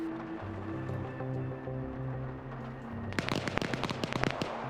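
Rapid gunfire in a military video game breaks out after a low droning hum, sharp cracks arriving in quick irregular bursts and growing denser toward the end.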